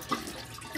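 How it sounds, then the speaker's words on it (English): Hot transmission fluid drains from a 2015 Honda Fit into a pan, a soft continuous trickling and splashing pour heard close and fairly quiet, with no talking. "It's gonna drain out for a little while."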